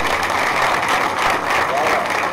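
An audience applauds continuously for an award representative at a prize ceremony, a dense steady wash of clapping throughout with no pauses.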